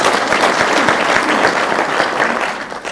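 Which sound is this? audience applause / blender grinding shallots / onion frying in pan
audience applause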